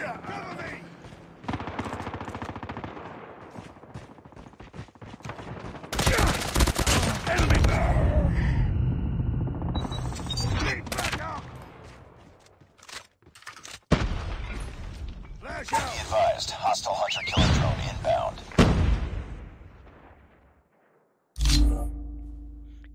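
Repeated bursts of automatic gunfire in Call of Duty Mobile ranked multiplayer, loud volleys of rapid shots in several runs with brief pauses between them, along with game effects and a player talking.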